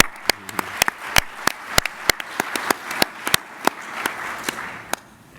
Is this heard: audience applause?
yes